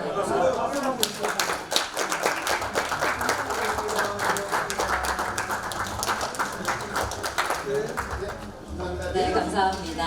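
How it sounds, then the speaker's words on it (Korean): Attendees at a forum photo session clap together, a sharper, less dense patter of individual hands mixed with voices and movement, running throughout with a brief dip near the end. "박수 한번 해주세요."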